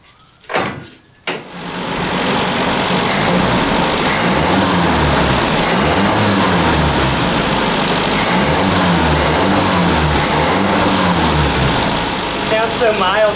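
A budget Toyota Corolla's engine starts after a couple of sharp knocks and settles into a loud, steady running rumble with a rhythmic pulsing, continuing close by for several seconds before easing near the end.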